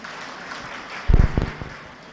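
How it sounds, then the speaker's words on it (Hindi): Brief scattered clapping from an audience at a Jain religious discourse, a short burst of a few claps rising out of quiet room noise and fading quickly. "एक बार अपने लिए तालियां बजा लो।"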